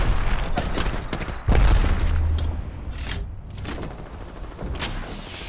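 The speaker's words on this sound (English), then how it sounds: "Grenade!" Grenade blast in the Apex Legends battle royale game, a heavy low boom with a sustained rumble, set among scattered gunfire and game action sounds.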